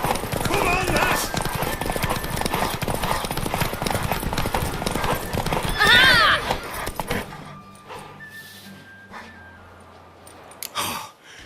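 Horse hooves from The Witcher 3 pound in a fast, steady gallop during a race, with a snort or whinny partway through. Voices speak over the hoofbeats, then the galloping fades to quieter sounds at the end.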